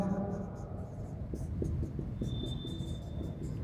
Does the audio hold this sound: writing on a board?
yes